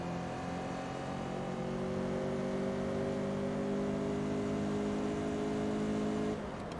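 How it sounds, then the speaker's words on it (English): A Mazdaspeed race car in Forza Motorsport 2 holds a steady, loud engine drone at sustained revs through a handbrake turn, then cuts off abruptly near the end. "And there we go, customary handbrake turn, and we are done."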